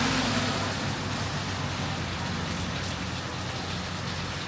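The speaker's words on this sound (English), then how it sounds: "it started raining immediately as soon as I got on the bicycle." Steady rain pours down along a roadside in Thailand, a dense, even hiss of drops on surfaces that holds constant and close for the whole stretch, with no voices.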